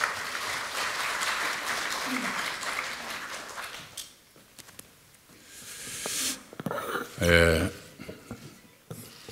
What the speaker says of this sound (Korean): 이낙연 위원장님 모시고 축사를 듣도록 하겠습니다. 박수로 맞아주시기 바랍니다